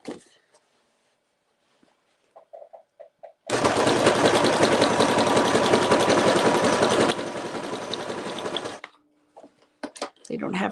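A sewing machine runs a zigzag stitch through layered paper in one continuous mechanical burst of about five seconds, with a brief pause before and after and speech nearby.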